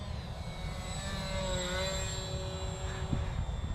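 A steady model airplane propeller drone hums close by in flight with a slightly wavering, uneven pitch from an unbalanced prop, continuous over a rushing wind-like background.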